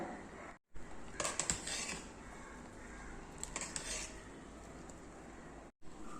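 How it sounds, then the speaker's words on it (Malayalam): Fermented dosa batter being stirred in a vessel, close scraping and clattering of a utensil against the pot in short bursts, with brief silent gaps. "ഇത് നന്നായിട്ടൊന്ന് ഇളക്കിയെടുക്കാം"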